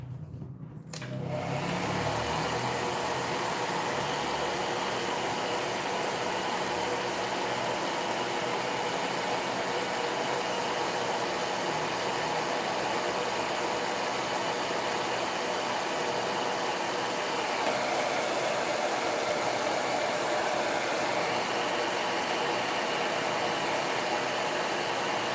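A hair dryer drying a painted sign switches on after a brief clatter and then blows at a steady, loud, unbroken roar, with a slight shift in pitch toward the end.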